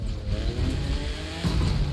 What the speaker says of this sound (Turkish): Bu oyuna egzoz patlatıyor yalnız arabamız.